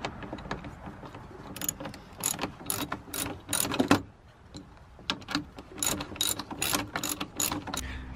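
A ratchet wrench with a 13 mm socket loosens bolts on a Ram 1500 Hemi during a clutch fan removal, giving bursts of rapid, close clicking with short pauses between, alongside metallic handling clatter.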